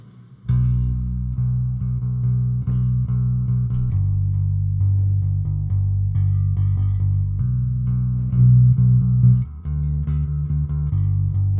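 An electric bass plays a low, sustained line through an Ampeg SVT3 Pro amp plugin with a warm tone, notes changing every couple of seconds with no voices.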